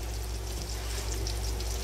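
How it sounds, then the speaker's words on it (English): A little water splashes into a thick frosting mixture for a beef-cake birthday cake, heard as a steady, close pouring wash, alone with no talk. "I'm going to splash a little more water in there."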